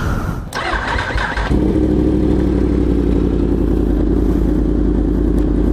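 A Yamaha R1M sport motorcycle fitted with Öhlins suspension fires up close by after a brief whirring crank, then settles into a loud, steady, throbbing idle with light revving that holds to the end.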